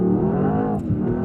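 A Mercedes-AMG S63 E sedan of nearly 800 horsepower launches from a standstill in Sport Plus mode. The loud, close engine note climbs and shifts briefly for just over a second.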